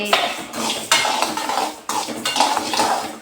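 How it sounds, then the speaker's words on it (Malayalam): Rice dry-roasting in a pan without oil, a spoon scraping and clattering against the metal in a few distinct strokes, close and fairly loud, with a soft rustle of grains between. "അപ്പോൾ നമുക്ക് അരി വറുത്തെടുക്കാം"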